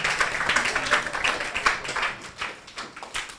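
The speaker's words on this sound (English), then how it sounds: "A round of applause again for our executive director." Audience applause at a teen tech summer academy event, many hands clapping in an uneven patter that stays moderately loud, then thins slightly toward the end.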